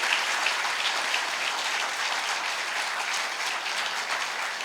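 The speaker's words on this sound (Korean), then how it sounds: "축하와 힘찬 격려의 박수 부탁드립니다" Congregation applauding at a church ordination service, dense sustained clapping from a large crowd filling the whole stretch with no break.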